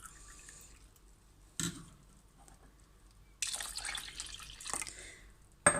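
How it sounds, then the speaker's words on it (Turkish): Water poured into a container while making peach fruit compote: quiet splashing and trickling in short bursts separated by near silence, the longest pour near the end, with no talking. "Şimdi e, su ekleyeceğim."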